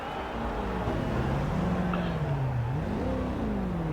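Lamborghini Urus engine in the racing game Forza Horizon 2, a steady droning roar with rising and falling revs, loud and continuous throughout as the SUV runs at race pace.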